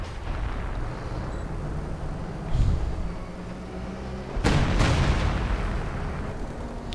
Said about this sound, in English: there we go, howitzer firing